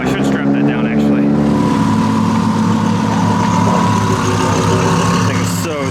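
A 2021 Ford F-150 Tremor's turbocharged engine runs steadily and loud, with a deep continuous drone near the listener throughout, and a voice talks over it.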